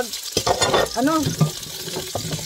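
Food sizzles and fries in a frying pan while being stirred during iftar preparation, with scraping clatters and spitting fat close by and a brief voice partway through.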